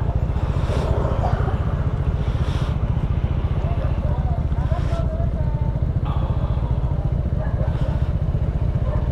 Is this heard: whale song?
no